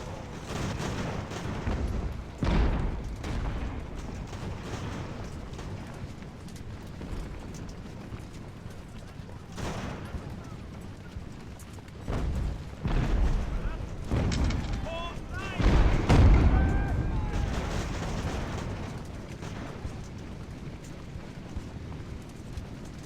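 Artillery fire in the naval-era strategy game Ultimate Admiral: Age of Sail, with repeated booming cannon blasts at irregular intervals over a steady battle rumble, the heaviest volley near the end.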